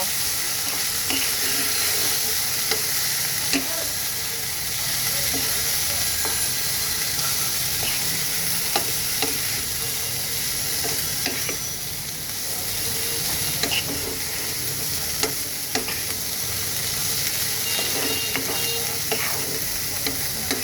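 Spiced potatoes and water spinach stems frying in a pan, seasoned with salt, turmeric and coriander powder, give a loud continuous sizzle with repeated scraping stirs of a spatula, close by.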